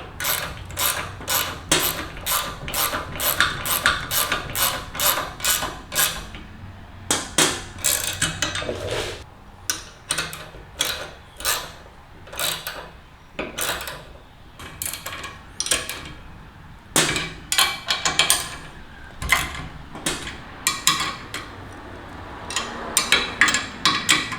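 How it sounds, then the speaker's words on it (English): Rapid ratcheting clicks while bolts are tightened on a CT70/Z50 engine and frame build stand, coming in repeated bursts with short pauses between them, close and clear. "So let me go ahead and tighten all of these bolts down now."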